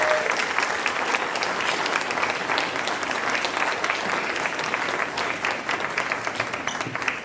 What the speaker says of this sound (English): How about another round of applause for our talented faculty?